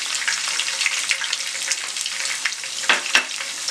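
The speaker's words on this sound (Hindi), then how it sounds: "और 1 खाने के चम्मच बराबर अदरक डाल दें" Ginger sizzles in hot oil with garlic and cumin while a chicken leg masala is cooked, a steady close frying hiss with a couple of sharper crackles near the end.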